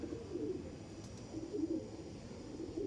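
Andhra pigeons coo softly in repeated low rolling phrases, faint and steady, with no talk over them.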